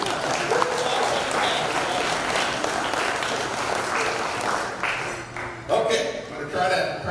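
Wedding reception audience applauding after a speech, steady dense clapping throughout with some cheers, loud and close, then tapering slightly near the end.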